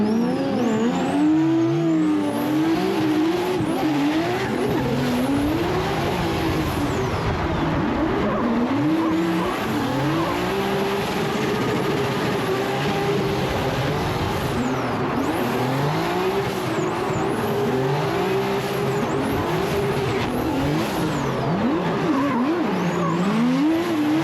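A drift car laps a street circuit at a Formula Drift round, its engine wailing continuously with repeated rising and falling revs and tire squeal, loud and close throughout.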